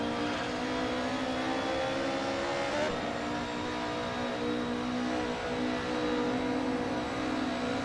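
Cars race along a mountain touge road in a video game, engines revving high and shifting, with a steady, close whine and no talk.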